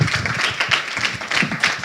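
An audience applauds after the first presentation of an architecture talk at a student event, with steady dense clapping filling the short stretch and no voices on top.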